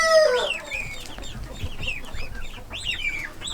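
Several chickens cluck and squawk in a barnyard pen shared with geese, the calls close and overlapping in busy bursts with a loud one at the start and more clustered near the end.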